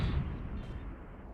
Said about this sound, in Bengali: আরে ভাই গ্রেনেড দিছে ভাই